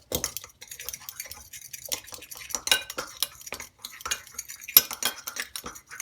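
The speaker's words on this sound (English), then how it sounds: "give it a good stir together" A spoon stirs oat flour and a pinch of bicarb together in a bowl for scones: a quiet run of scraping and clinking against the dish with no talking.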